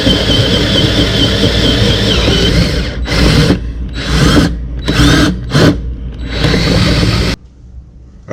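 A power drill boring a 3/8 inch hole with lubricant, a loud close whine with grinding and chatter, pausing and restarting in short bursts before cutting out near the end.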